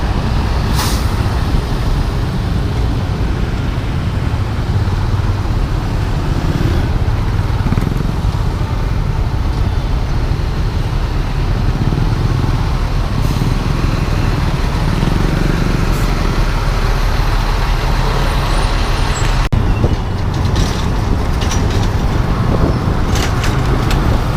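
Heavy road traffic with trucks and buses in Taguig, a loud continuous engine rumble with passing vehicles and an occasional hiss from air brakes.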